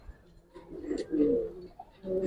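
A male Giribaz pigeon coos close by, a few low throaty rolling phrases in quick succession with faint room noise and no talk.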